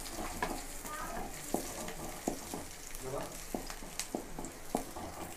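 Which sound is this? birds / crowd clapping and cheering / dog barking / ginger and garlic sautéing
ginger and garlic sautéing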